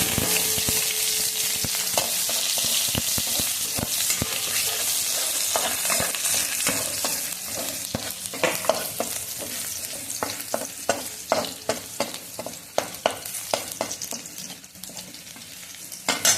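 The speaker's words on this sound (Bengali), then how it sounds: "উচ্ছে আলু তরকারির জন্য রাঁধুনি ফোড়ন দিয়ে দিচ্ছি আর যে রসুনটা থেতো করে রেখেছিলাম সেই রসুনটা দিয়ে দিচ্ছি" Radhuni seeds and crushed garlic frying in hot oil as a tempering for a bitter gourd and potato curry, a steady close sizzle with scraping stir strokes breaking through toward the end, no talking.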